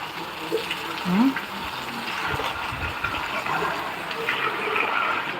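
Water pours and gushes steadily over oranges and jujube fruits, a continuous close splashing wash with a brief louder surge early on, while a person talks over it.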